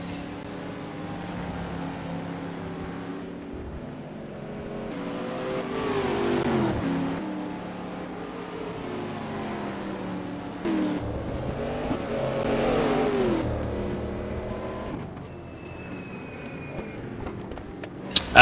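Race cars run on the track at Most during an STC Black Cup round, engines droning and revving through rising and falling pitch sweeps as cars brake and accelerate, moderately loud with a brief sharp clatter at the end.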